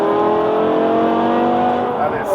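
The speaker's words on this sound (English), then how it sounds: "And it sounds beautiful when he puts his foot down." A modified 550 bhp BMW E60 M5 with a V10 engine accelerating hard, a loud, steady high-revving engine note rising continuously from inside the car, with a voice talking over it.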